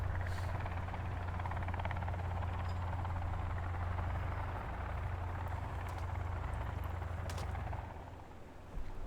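A helicopter flies in the survival video game Sons of the Forest, its steady, throbbing rotor drone holding continuously and easing slightly toward the end.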